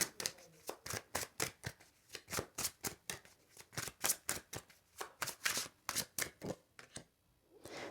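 Tarot cards being shuffled and drawn from a deck, a steady run of crisp, papery riffles and slaps repeating rapidly and close up, with no talking.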